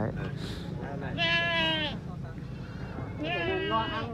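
Male mountain goats at a Vietnamese livestock market give two drawn-out, wavering bleats, close by, amid people chatting.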